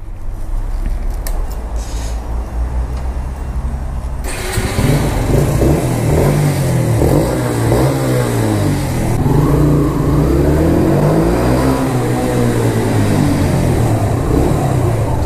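A Yamaha or Ninja 300 style sport motorcycle engine runs steadily nearby, then revs up strongly, with rising and falling engine pitch sweeping through repeated throttle blips.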